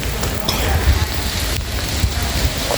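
Light drizzle falls outdoors at Lembur Pakuan during a birthday celebration event, a steady soft patter and hiss with a low rumble throughout, and no clear voices.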